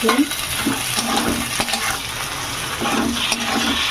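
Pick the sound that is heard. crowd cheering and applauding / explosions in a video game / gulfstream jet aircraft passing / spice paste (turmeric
spice paste (turmeric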